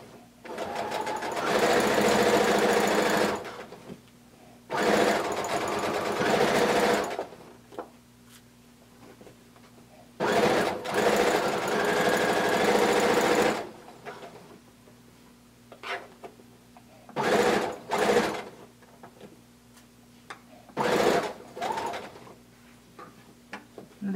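Sewing machine stitching a 5/8-inch seam on a blanket coat, running in several bursts of a few seconds each with pauses between, fairly loud and steady while running.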